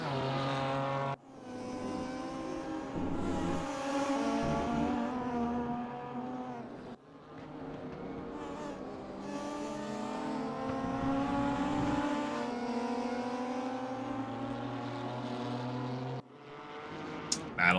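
Multi-class race cars scream around the Hungaroring in a sim racing game, engines revving and shifting continuously with several cars passing, loud and steady throughout.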